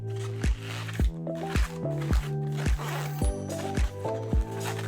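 A latex balloon being twisted into a T-Rex dinosaur balloon animal, nozzle folded into the twist, gives a series of about nine sharp rubbery squeaks and whining rubs, close and rhythmic with short pauses between them.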